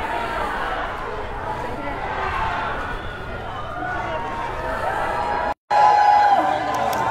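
Large crowd at a freedom march in Vancouver, a steady outdoor roar of many voices and movement throughout, with a brief dropout near the end before the crowd noise returns louder.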